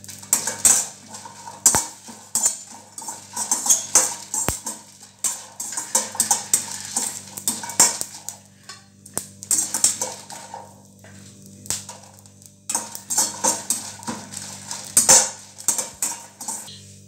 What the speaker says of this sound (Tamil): மிளகாய் பூண்டி ரெண்டுமே ஒன்றா போட்டு வறுத்துருவோம்.